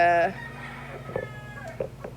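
Farm chickens clucking softly at a distance, a few short scattered clucks over low background, with a voice briefly present early on.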